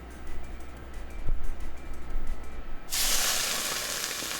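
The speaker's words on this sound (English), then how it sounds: "I think we're safe for a good sear." Loud broadband sizzle of steak hitting a hot pan with vape juice, erupting suddenly about two-thirds through and holding steady, after quieter low rumbling and a brief knock.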